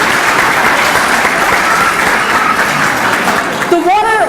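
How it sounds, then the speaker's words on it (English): Audience at a speech by the executive director of CAIR applauding two leadership institute fellows, loud continuous clapping from a large room, with a voice speaking briefly at the very end. "Let's give them a round of applause."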